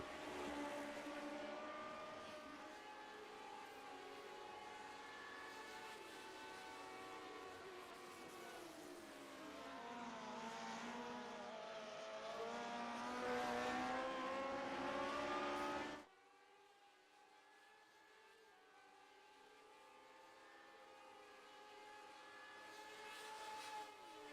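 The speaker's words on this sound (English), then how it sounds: "if Hamby can find just a little bit more out of that number 15 Lotus 79 machine" A Lotus 79 race car in a racing video game howls with a high, sustained engine note that rises and falls through gear changes and corners, then cuts abruptly to a quieter, thinner engine tone.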